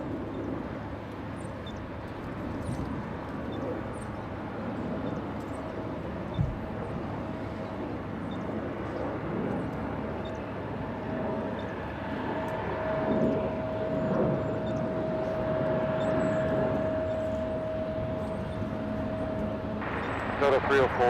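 Aircraft at LAX airport rumble as a steady, distant broadband engine roar with a faint sustained whine, continuing under ongoing talk and radio chatter throughout.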